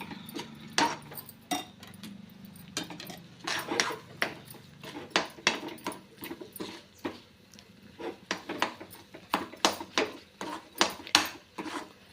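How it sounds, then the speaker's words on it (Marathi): A spoon scrapes and knocks in a pan while rice flour dough for modak is stirred, giving repeated irregular clinks and scrapes, close and clear, with no talking. "आता गॅस आपण मोठा करूया आणि सतत हे मिश्रण ढवळायचं आहे"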